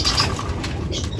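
A racing pigeon gives a brief, soft cooing call amid faint rustling nearby, lasting only a moment.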